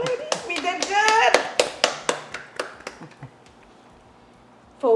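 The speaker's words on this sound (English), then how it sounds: "Give yourselves a round of applause, ladies." A small group claps in a run of sharp, close hand claps that start fast and loud, then thin out and fade over a few seconds, with cheerful voices talking over the first part, at the end of a live cooking show.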